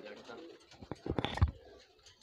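A pair of Chanda Khani high-flyer pigeons give a brief, low coo close by, partly under someone talking.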